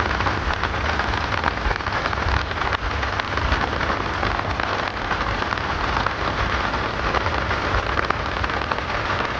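Heavy rain falls steadily on a wet village road lined with trees, a dense, loud, unbroken patter with no talking.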